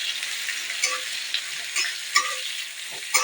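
Chopped onions fry in hot oil with a steady sizzling hiss, broken by a few sharp scrapes of a spatula stirring them around the pan.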